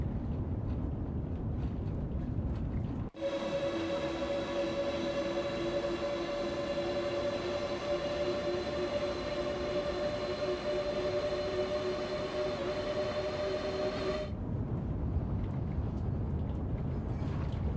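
A South Eastern high-speed train in the game Train Sim World 4 accelerates flat out, its traction motors giving a steady, loud, rising whine that holds for about eleven seconds and then cuts off abruptly.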